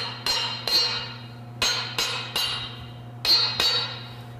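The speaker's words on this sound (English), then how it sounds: "now we get to beat on our crankshaft with a hammer." Hammer blows ringing against a crankshaft during a turbocharged Oldsmobile V8 engine build, seven sharp metallic strikes in an irregular rhythm with bright ringing decay, close and clear over a steady low shop hum.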